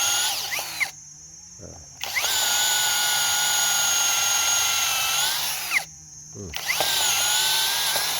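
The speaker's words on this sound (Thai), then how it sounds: "หลังจากที่เจาะไม้นะครับ" A Tanzu TZ-Z-80MT cordless drill bores into wood in two long, loud whining runs, with a short pause between them and the motor winding down and back up.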